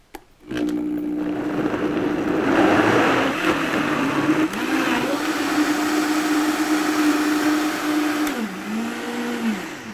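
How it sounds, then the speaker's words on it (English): A Vitamix blender whirs steadily as it blends a green smoothie, a loud motor drone with pitch dips as the load shifts, running close and alone for nearly ten seconds. "The great thing about a Vitamix is that you don't have to blend it that long."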